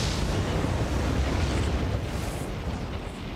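A large fire roars with a dense, continuous rumbling rush like strong wind, loud and steady throughout, with no distinct crackles standing out.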